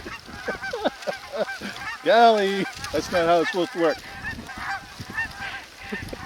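Geese honk loudly in a rapid burst, with a person speaking nearby over the calls.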